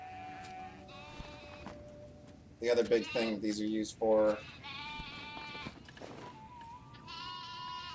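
In the Black Desert game world, sheep bleat repeatedly with wavering cries, some loud and close, others softer, layered over someone talking steadily.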